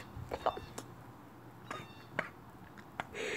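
A person softly imitates a cat's meow, producing a few faint, short mewing sounds amid quiet talk and breathy noise in a hushed indoor setting.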